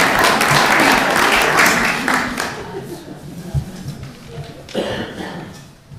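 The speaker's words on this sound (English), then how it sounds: "A round of applause for my assistant." An audience at an evening talk gives a round of applause for an assistant, dense clapping that is loud at first and then tapers off over a few seconds into scattered claps, with a voice speaking partway through.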